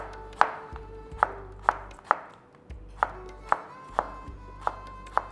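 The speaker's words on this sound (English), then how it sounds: "I'm going to be cutting it into thin strips." A knife cuts raw mango (kairi) into thin strips on a board, about ten sharp, evenly spaced chops ringing out close and alone.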